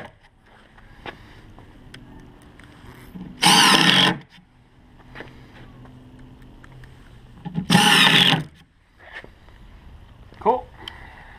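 A power drill drives screws into a wooden food-storage can shelf in two loud, roughly one-second whirring bursts separated by a pause, with a person talking quietly in between.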